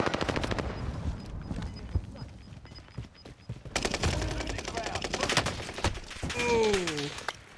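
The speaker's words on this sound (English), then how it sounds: "We're getting shot at." Rapid bursts of automatic gunfire and scattered shots ring out in a Warzone match, loud and close with some distant echoes, while players talk over the exchange.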